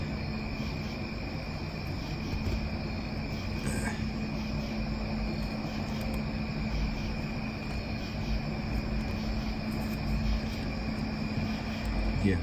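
Crickets chirp steadily in the background, a continuous high, even trill that holds under a broad hum of ambient noise for the whole stretch, with no talking.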